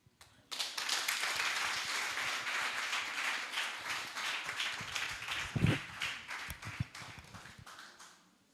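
Sustained audience applause fills a conference hall at an export summit, dense overlapping claps starting abruptly and holding steady at moderate loudness, with a brief low thump partway through and a few louder individual claps near the end.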